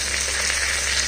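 Turmeric powder dropped into hot oil for a fish-head and bottle gourd dish gives a brief, steady sizzle, close and fairly loud, with no talk.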